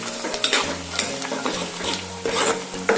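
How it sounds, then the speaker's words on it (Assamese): Spice paste sizzles in a hot pan for a duck and pumpkin curry, with a spatula scraping and stirring in quick, uneven strokes close by. "এইখিনি ধুনীয়াকৈ অকণমান সময় ভাজি ল'ম।"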